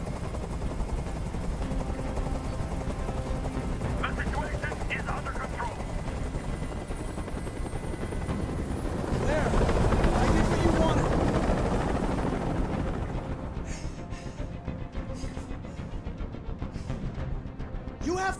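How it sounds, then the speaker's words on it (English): A helicopter hovering overhead in the video game Detroit: Become Human, a loud, continuous rotor drone and thrum that swells midway, with faint voices under it. "I can't stand that noise anymore. Tell that helicopter to get out of here."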